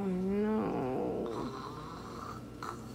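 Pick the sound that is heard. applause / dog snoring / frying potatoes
dog snoring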